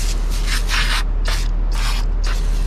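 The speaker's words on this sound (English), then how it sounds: "I'm gonna start at the bottom and just thoroughly saturate it." Foaming coil cleaner hisses from an aerosol can onto an RV air conditioner coil in several short bursts, close-up over a constant low machine hum.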